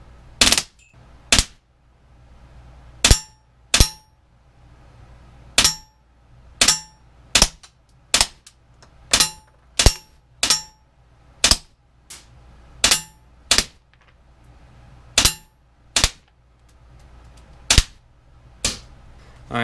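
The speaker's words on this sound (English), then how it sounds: "I'm going to do some semi-auto shots, and then I will show it firing in full auto." Umarex M712 CO2 blowback BB pistol fires single semi-auto shots, about eighteen sharp cracks spaced roughly a second apart, loud and close with a quiet hum between them.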